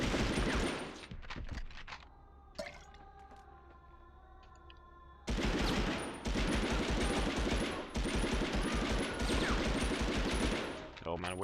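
Gunfire in the World War II shooter Medal of Honor Underground: loud bursts of rapid automatic and pistol fire in dense volleys, broken by a short quieter stretch of ambient game sound before heavy shooting resumes.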